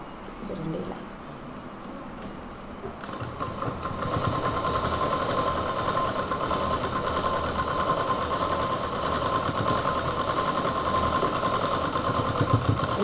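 A sewing machine stitches a small piece of cloth, starting after a quiet pause and then running as a steady, fast, rattling mechanical whir that stays close and continuous to the end.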